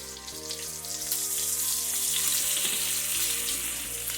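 Butter sizzles and crackles loudly in a hot pan beside a ribeye steak, a steady broadband frying hiss that swells and stays dense throughout with no talking.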